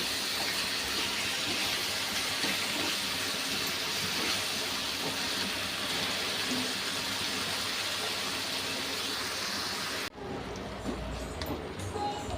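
Water pours steadily into a pot of measured rice with a continuous rushing gush for about ten seconds, then cuts off abruptly, leaving quieter room sounds.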